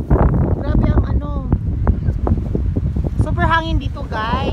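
Strong wind buffets the microphone on a boat trip off Zambales, a loud continuous roar under excited voices talking throughout.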